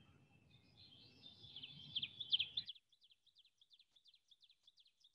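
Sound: Song of the teacher bird, recorded birdsong

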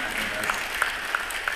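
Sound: audience applause

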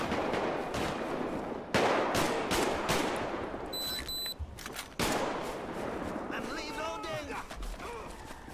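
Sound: rifle gunfire in GTA V LSPDFR police mod video game

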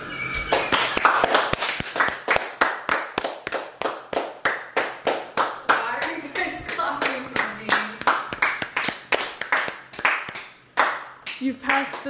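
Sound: group of people clapping for Julia

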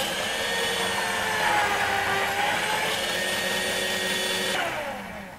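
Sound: blender running

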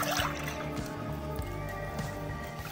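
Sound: pouring evaporated and condensed milk into a bowl

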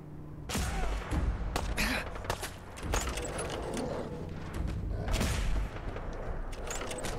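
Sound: gunfire in the video game Fallout 4 VR

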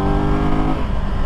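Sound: Triumph Tiger 1200 GT Pro motorcycle engine revving

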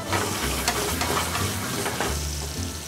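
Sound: garlic confit sizzling in hot oil in a pan

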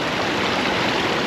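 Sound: wild stream with waves while gold panning

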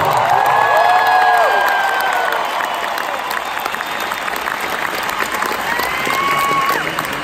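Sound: concert crowd applause and cheering

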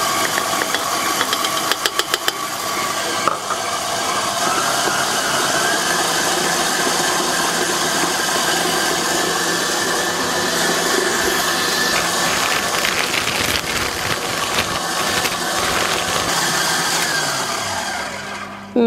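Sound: stand mixer whisking meringue with icing sugar

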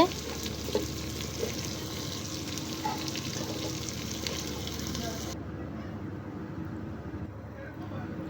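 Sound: bottle gourd poured into sautéed meat in a pot, sizzling

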